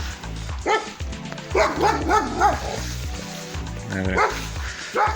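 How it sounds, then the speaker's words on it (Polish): A dog barks at close range in repeated loud bursts, with yips and whimpering between them, while a man is outdoors photographing a view. No one speaks. "Pies mnie atakuje"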